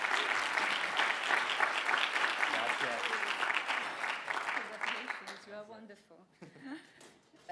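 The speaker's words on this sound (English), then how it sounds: "So please give a round of applause to Vanessa for her." A conference audience applauds a speaker at a climate change keynote, with dense clapping that holds steady for several seconds, then thins and fades as a voice begins talking near the end.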